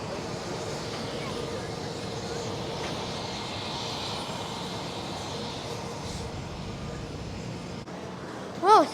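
Steady broadband roar of a Boeing 787-8 engine heard from inside the cabin during flight, a continuous loud drone with no pauses and a brief tonal chime near the end.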